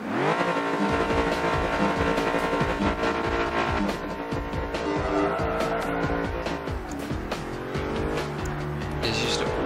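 Cars drift around corners through a cone course in Project Gotham Racing 3. Engines drone steadily under repeated sharp tire squeals and skids that run close and loud the whole time.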